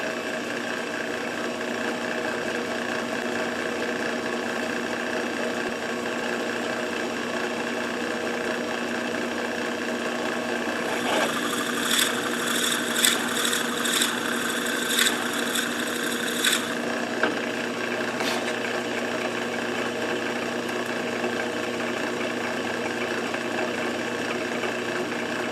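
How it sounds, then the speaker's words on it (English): A salt box blank drills deeper on a wood lathe. The machine hums steadily throughout, with a harsh grinding cut in the middle as the bit bites into the wood, then it eases back to a running hum. "try to get that drilled a little bit deeper"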